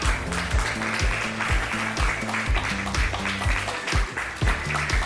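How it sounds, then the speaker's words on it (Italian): Applause for an award presenter at an evening beauty pageant in Mestre, a broad hiss of clapping running under loud pounding music with a thumping beat. "Venga, un applauso."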